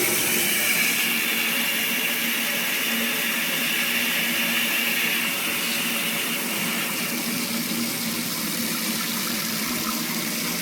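A kitchen tap turned on full blast with both hot and cold open, ahead of a water change on a live planted aquarium, gives a steady, loud, unbroken rush of water throughout, with no talking.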